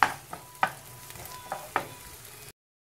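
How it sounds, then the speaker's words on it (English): Chopped onions and green chilies fry in butter on a tawa, a low sizzle punctuated by four or five sharp spatula clanks against the pan before cutting to silence. "Cook till the onions are translucent."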